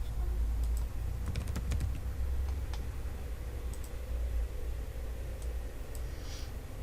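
Scattered clicky keystrokes on a computer keyboard, fairly faint and sparse, sit over a steady low background hum and hiss, with a quick cluster of taps early on and single presses after.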